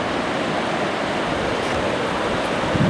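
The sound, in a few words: ocean waves on a rocky beach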